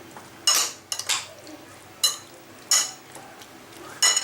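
A utensil scrapes and clinks against a pan while beef and broccoli are stirred, five or six sharp metallic strokes spaced about a second apart, close and clear over a quiet background.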